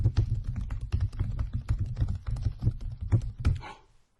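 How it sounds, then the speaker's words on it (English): Rapid typing on a computer keyboard, a dense run of quick key clacks with a deeper thump to each stroke, close and steady for about three and a half seconds before stopping abruptly. "I'm typing at double speed just so we get this"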